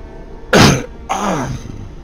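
Two sharp throat-clearing coughs close to the microphone, one right after the other, loud and abrupt against a quiet background.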